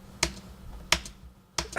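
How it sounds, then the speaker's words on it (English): A backup computer keyboard is struck in three sharp, separate clicks spaced about two-thirds of a second apart, close and fairly loud against a quiet room. "This is my backup keyboard, but it's actually the keyboard I'm using right now"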